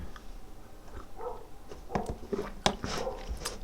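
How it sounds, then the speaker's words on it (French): Dogs bark and yip intermittently in the background, with a few sharp, moderately loud barks spaced across a few seconds over low room noise. "Je vais baisser le volume des chiens"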